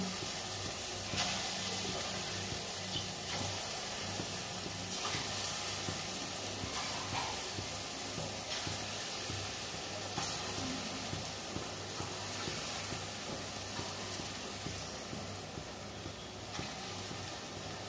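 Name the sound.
frying biuli dal fritters in oil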